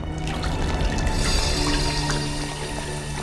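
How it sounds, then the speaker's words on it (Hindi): Water pours and splashes down from above in a continuous, fairly loud wash, an unbroken stream without voices. "पानी क्या हो? ऊपर से आ रहा है?"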